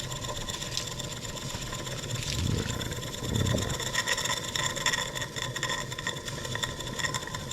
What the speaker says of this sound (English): You guys ever seen a steam engine run at 0 RPM?